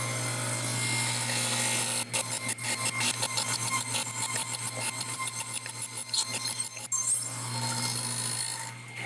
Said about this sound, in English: I'm going to have to rely on my table saw and I'll just have to nibble this away.